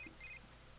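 A phone in the Persona 4 Dancing All Night game gives a couple of short, faint electronic beeps in quick succession, heard alone.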